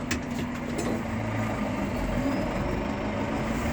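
A tractor pulls a mechanical corn seeder across a field, its engine a steady low rumbling drone heard close and continuously, with a few faint clicks near the start.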